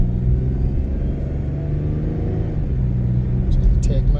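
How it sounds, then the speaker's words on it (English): A car pulling away from a green traffic light, its engine a low steady rumble inside the cabin that rises slightly as it accelerates. "I'm going to accelerate."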